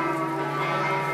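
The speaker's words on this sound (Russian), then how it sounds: "Как раз, видимо, 6 часов звонят колокола на площади Сан-Марко." Church bells in St Mark's Square, Venice, ring the hour with sustained, overlapping metallic tones that hum and shimmer steadily, no voices.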